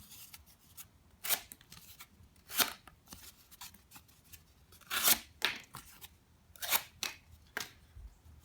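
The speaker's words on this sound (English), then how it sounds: "Pretty thin blade. Not overly thin, but so it slices through this cardboard no problem." A Fox Terzuola titanium folding knife with a fairly thin blade slicing through cardboard, a series of short, crisp cutting rasps spaced about a second apart, close by and otherwise quiet.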